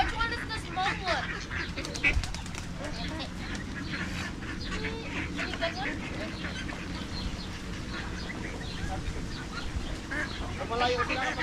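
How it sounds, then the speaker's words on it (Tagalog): A flock of ducks and geese quacks and honks busily at feeding time, a constant overlapping chorus close by, while people talk over the birds throughout. "malaki na yan, yun ang pato."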